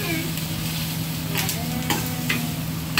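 Adobo ingredients sautéing in a pan with a steady sizzle and occasional stirring scrapes, close and continuous.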